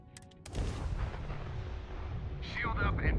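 Ship weapons fire in the space game Starfield, a heavy rumbling blast that opens after a short electronic tone and then rolls on as a sustained loud low roar, with a whooshing sweep near the end.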